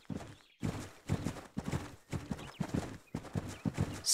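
A horse's hooves clip-clop in the Mary King's Riding School 2 video game, with an even run of hoof strikes in regular groups that stays close and clear throughout.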